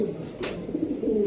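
A female white racer pigeon gives a brief soft coo, close and fairly quiet over low background noise.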